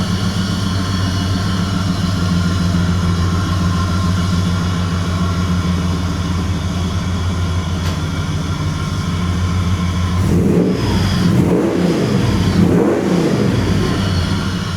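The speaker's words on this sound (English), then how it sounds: "So that's extractor 3-inch exhaust." A Commodore wagon engine breathing through extractors and a 3-inch exhaust, holding a steady loud rumbling idle before two quick rising revs near the end, heard alone up close.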